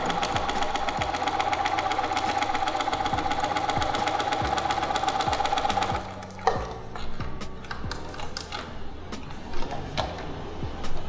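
A sewing machine stitches along a line in a steady, rapid mechanical whir for about six seconds, then stops; quieter handling clicks and taps follow as the fabric is pivoted.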